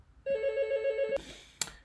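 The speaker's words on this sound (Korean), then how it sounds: "잠시만요. 전화가 왔네요." A telephone rings with a single sustained electronic tone lasting about a second, loud and close, then a brief clatter follows.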